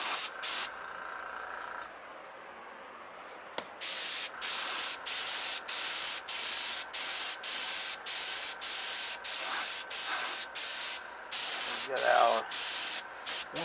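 A Testors Aztek airbrush spraying acrylic paint onto a model car body, loud hissing bursts pulsing in short regular on-off strokes, with a few quieter background sounds in the pauses.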